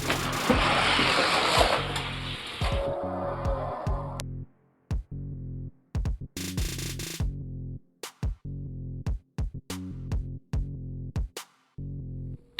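Hot Wheels toy cars drag racing down a plastic track, opening with a few seconds of dense rolling rattle, then a run of short, sharp clacks and knocks with quiet gaps between them.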